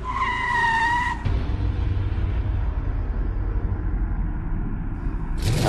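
A car skids hard through a rapid U-turn, with a tonal squeal at the start giving way to a loud, sustained rumble of tyres and engine that continues almost to the end.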